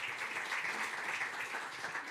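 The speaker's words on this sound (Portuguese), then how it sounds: "Muito obrigada, um aplauso para ambos." An audience at a rehabilitation therapies event claps for two speakers, a dense, even patter of hands that holds steady and lasts a couple of seconds.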